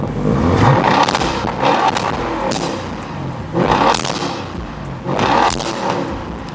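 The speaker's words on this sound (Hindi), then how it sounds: "इवन ये गाड़ी शॉक होते हुए भी पॉप्स एंड बैंग्स करती है, ये चेक कीजिए।" A 2016 Audi S8 Plus sedan fires loud exhaust pops and bangs in repeated bursts, each a heavy thump with a crackling tail, spaced about every second and a half and recorded close.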